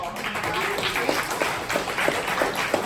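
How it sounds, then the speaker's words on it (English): Applause from a small audience, a few seconds of clapping with uneven, scattered claps standing out near the microphone. "can we just give a round of applause?"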